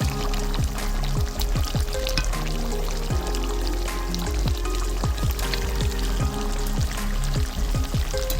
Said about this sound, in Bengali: মাংসটা ফুটতে শুরু করেছে এবারে দিয়ে দেওয়া হবে ভেজে রাখা আলু